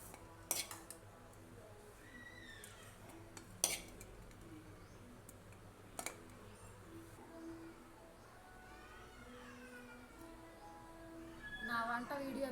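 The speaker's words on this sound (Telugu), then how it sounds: "ఒక ప్లేట్లోకి సర్వ్ చేసుకుందాం." Cooked food being served onto a plate with metal utensils, a few sharp clinks and scrapes of cutlery against dishes standing out over a low, steady background hum, with a busier clatter near the end.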